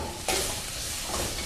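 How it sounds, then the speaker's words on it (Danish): Onions and Filipino tomatoes simmer in olive oil for a homemade tomato ketchup, giving a steady, close sizzle and hiss, with a brief stirring scrape near the start and no talking. "Det får så lov til at småsimre i 45 minutter."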